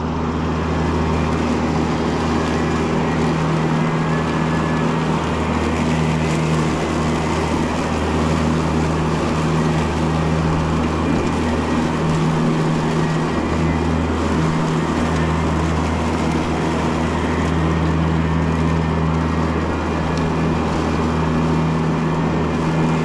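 A Greenworks CRZ 428 Pro 82-volt electric riding mower cutting tall, wet grass at about 3.5 inches, a loud, steady whirring drone heard close up from the seat, unbroken throughout.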